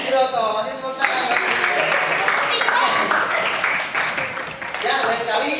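Applause in a classroom, a burst of clapping from students that starts after a moment of speech and continues fairly evenly, with voices mixed in over it.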